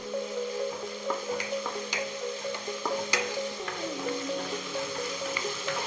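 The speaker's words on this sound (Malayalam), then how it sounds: "ചെറുതായിട്ട് ഇതിൻ്റെ ഒരു പച്ചമണം മാറുന്നത് വരെ നമുക്കിതൊന്ന് വഴറ്റിയെടുക്കാം" Ginger and garlic frying in a pan for a Kerala chicken curry, a soft continuous sizzle broken by regular scrapes and light taps of a spoon stirring, close and alone.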